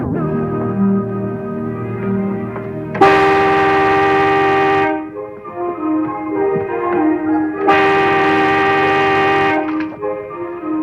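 A vehicle horn at a farm honks in two long, loud, sustained blasts separated by a short pause, with softer engine-like rumbling between them and no talk.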